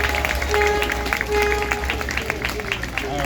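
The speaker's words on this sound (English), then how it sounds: "can we have a round of applause for all of our recipients this year?" An audience at a community scholarship awards ceremony in Cedar Park applauds the recipients, steady moderate clapping throughout with a voice talking over it.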